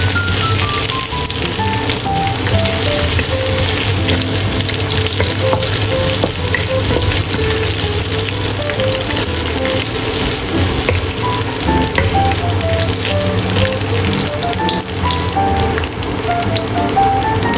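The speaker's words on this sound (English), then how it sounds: "Heat oil. Pour in red chilies and dried chilies. Stir fry until it releases." Loud, continuous sizzling and crackling of fresh red and dried chilies stir-frying in hot oil, with occasional scraping of a utensil in the pan.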